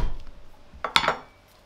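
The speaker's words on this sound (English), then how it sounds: "we've got the garlic here. Just want to give that a whack" A garlic clove takes a whack on a kitchen board, giving two or three close, sharp knocks with a clattery, utensil-like ring, fading quickly into quiet room tone.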